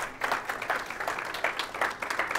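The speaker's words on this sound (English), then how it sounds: "let's give a big round of applause" Light applause from a modest audience, a patter of claps rising and falling in small waves for a couple of seconds.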